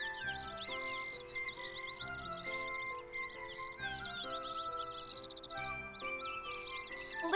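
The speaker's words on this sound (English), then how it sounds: "Listen, they're singing for us." Birdsong in Kingdom Hearts 3, bright chirps and trills over a steady melodic game music bed, continuous throughout, fairly faint.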